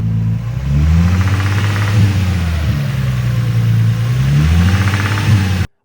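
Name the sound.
Nissan 350Z engine with rod knock or timing chain tensioner noise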